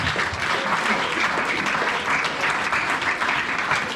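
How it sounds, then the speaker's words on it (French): Church congregation applauding in a dense, continuous wave of clapping from many hands, loud and unbroken throughout, with voices mixed faintly into the crowd. "Acclame Jésus-Christ."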